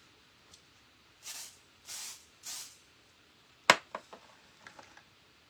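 A pixie spray bottle mists water onto a wall in three soft, even hissing bursts, close and fairly quiet, followed by a sharp click and a few faint handling taps.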